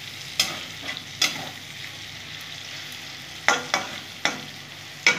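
Potatoes and tomatoes tempered with asafoetida and nigella seeds sizzle steadily in a pan, with a few sharp scraping stirs of a spoon breaking through at irregular intervals, close and fairly quiet, with no voices.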